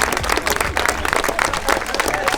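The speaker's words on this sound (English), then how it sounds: "you may want to give him a bit of a round of applause" A crowd claps and cheers in a brief burst of dense, loud applause at the presentation after a 5K road race.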